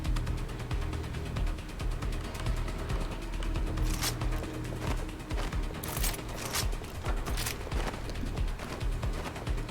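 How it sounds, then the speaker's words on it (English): Gunfire in the Watch Dogs Legion video game, set in London, with bursts of sharp shots and a few stronger cracks over a dense, steady game soundscape. "Gunfire!"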